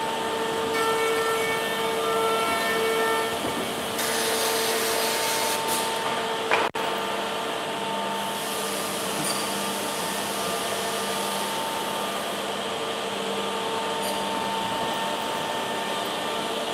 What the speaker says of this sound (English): So we can see in front of the edge bender, it is the feeding system.